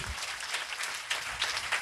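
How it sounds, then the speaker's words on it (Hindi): A church congregation applauds loudly in thanks during a Hindi sermon, a brief burst of dense clapping at moderate distance. "ताली बजा के जोरदार धन्यवाद करिए।"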